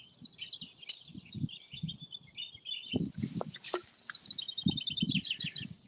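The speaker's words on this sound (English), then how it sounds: "Yeah, we've got a lot of crows mobbing a buzzard." Crows in open countryside near an old churchyard call repeatedly while mobbing a buzzard overhead, a steady series of harsh cries over low rustling and footsteps close by.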